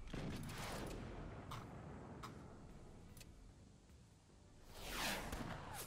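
Weapon shots firing in the strategy game Forts: a few sharp, spaced cracks over a steady rumbling bed of battle noise, followed by a rising whooshing swell near the end.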